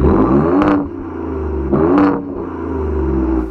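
A 2021 Ram TRX or 2021 Ford Raptor pickup truck engine revs in two loud, close bursts over a steady low idle rumble, with no talking.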